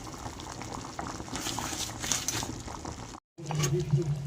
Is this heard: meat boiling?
yes